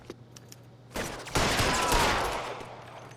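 Gunfire in L.A. Noire, a few faint clicks followed by a sharp shot and then a loud, rapid burst of overlapping gunshots that rings out and slowly decays.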